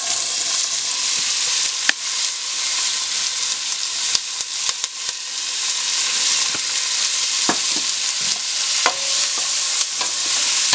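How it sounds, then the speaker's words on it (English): Onion sweating in pork chop oil left in a pan for tomato sauce, a continuous close sizzle broken by scattered sharp clicks and scrapes of a utensil against the pan, without talk. "you want to sweat your onion"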